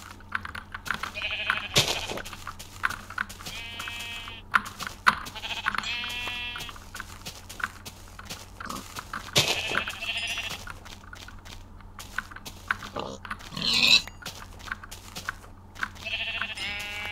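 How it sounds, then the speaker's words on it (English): Sheep bleat repeatedly in a hardcore survival video game, several wavering calls spread across the stretch over a busy layer of clicks and game noise, with no speech. "There are two sheep."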